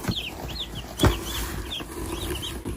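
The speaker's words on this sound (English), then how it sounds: "The broilers have arrived." Broiler chickens clucking in a close, busy cluster, with repeated short chirps and clucks, a brief flutter or bump near the middle, and no talk.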